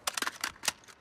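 Weapon reload in Call of Duty: Modern Warfare (beta multiplayer): a quick run of sharp mechanical clicks and metallic snaps, fairly faint and close, with no voices over it.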